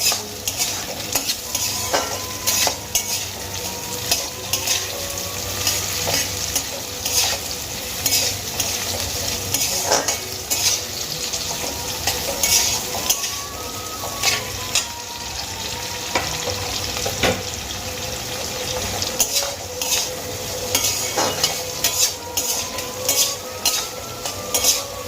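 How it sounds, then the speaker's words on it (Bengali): Onions fry in a pan for a chicken curry masala, a continuous sizzle running under repeated scrapes and knocks of a utensil being stirred through them, with no talking. "এবার আমি পেঁয়াজগুলোকে কিছুক্ষণ নাড়িয়ে চাড়িয়ে নেব।"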